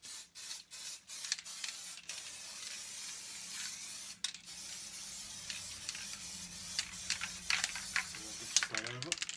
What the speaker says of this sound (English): we've got to put the basing spray on